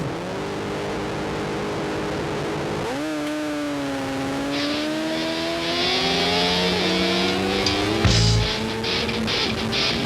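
Racing motorcycles at Grattan Raceway accelerate together at a race restart, engines climbing in pitch through the gears as they pull away, loud and close, with sharper high-revving bikes joining partway through.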